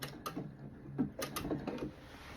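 A sewing machine zigzag-stitches a patch onto a jean jacket, with a quick run of close mechanical clicks and needle taps, faint and alone.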